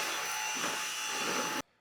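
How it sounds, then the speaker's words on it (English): Vacuum cleaner running steadily and loud on a lounge floor for over a second, with steady whine tones, then abruptly cut off near the end. "He's trying to kill my vacuum cleaner."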